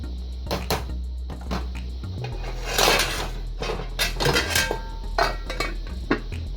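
A metal lid goes onto a pot of chicken foot soup, giving sharp clinks and clattering knocks of metal against metal, with a low steady rumble underneath and a brief scraping burst in the middle.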